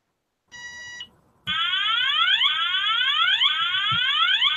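An electronic alarm at a railway setting sounds a brief steady tone, pauses, then switches to a loud repeating whooping sweep that rises over and over without any talk.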